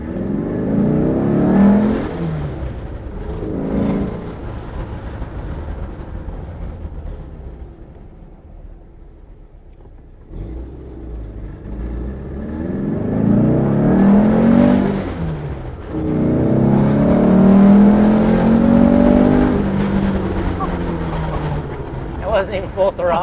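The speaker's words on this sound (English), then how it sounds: "Revs up fast." A car with a restored 2.1 liter engine revs in bursts, the pitch climbing and falling as the throttle is blipped, with a quieter idle stretch between, close by and loud, with people talking over it.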